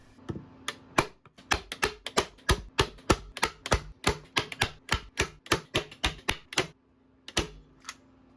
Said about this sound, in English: I stuck some Velcro tape onto the wood and then stapled it all down